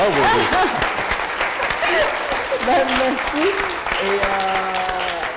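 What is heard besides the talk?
audience applause for Kim Thúy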